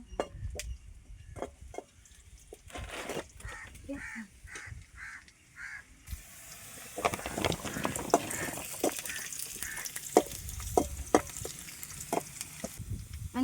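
Steady sizzling of onions frying in a pan with occasional stirring clatter, while a crow caws a few times in the background.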